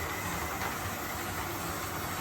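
Model railway locomotive pulling away on a steep layout slope with slight wheel spin, giving a steady, close hissing rumble that runs without a break and has no talk over it.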